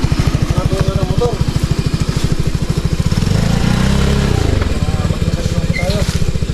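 A motorcycle engine chugs loudly and rhythmically at close range while riding up a mountain, its beat thickening into a harder-worked drone midway, with people talking over it.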